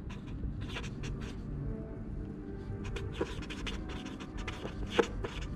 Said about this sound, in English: I'm going to write down solid P.